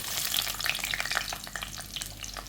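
Finely chopped garlic hits hot oil for a curry leaf pickle, making a dense, close crackling sizzle that holds steady throughout.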